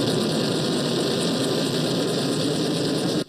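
Firefighting helicopters working the Line Fire at Big Bear Dam, refilling water every couple of minutes: a steady, loud rotor and turbine roar that holds without a break, then drops away abruptly at the very end.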